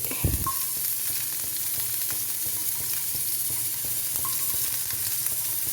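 Small shallots dropped into hot oil with whole spices like fennel, cloves, cardamom, cinnamon and mace, sizzling loudly and steadily up close with occasional stirring clinks.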